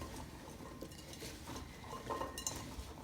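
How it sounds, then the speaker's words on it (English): Apples and butternut squash are mixed by hand in a bowl, producing quiet, close, soft squelching and shuffling with a few faint clinks. "going to mix your apples with your butternut squash"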